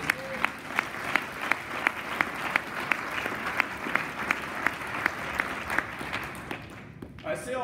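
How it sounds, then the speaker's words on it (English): Audience applause at a community college event, sustained clapping from a crowd with one strong, regular clap standing out in an even beat, tapering off before a voice starts at the end. "Round of applause."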